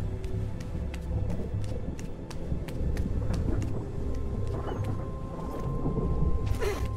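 Thunder rumbles from a storm cloud in the video game RiME, a dense low roar with scattered sharp crackles, swelling louder toward the end without any talk.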